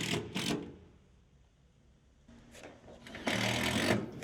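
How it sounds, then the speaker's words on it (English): A power driver sends screws through Fielders Prominence metal roofing sheet into battens or ply. It sounds as a few short, close whirring bursts separated by near silence, with the longest burst at the end. "Screw fix the underlap edge to battens or ply, taking care to place the screws to the centre of the slotted holes"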